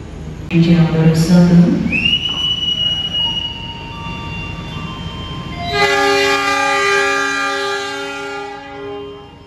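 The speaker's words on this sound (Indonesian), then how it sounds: "ketika kereta berangkat, lalu pintu menutup secara otomatis" The Gaya Baru Malam passenger train departs as its doors close automatically: a rumble and a rising metallic squeal, then a loud, sustained multi-tone horn blast over steady rolling noise.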